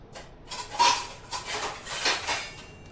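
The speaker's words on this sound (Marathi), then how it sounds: "पंधरा मिनिटांसाठी याच्यावरती झाकण ठेवते" A lid is set over a bowl of freshly kneaded dough in a home kitchen, producing a few light clinks and clatters of metal and crockery spread across a brief quiet moment.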